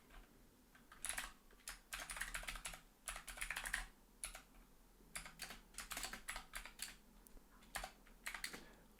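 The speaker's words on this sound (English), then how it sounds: "I'll type this one out." Programming code is typed on a computer keyboard in quick, soft bursts of clicking keys, with short pauses between runs and no talking.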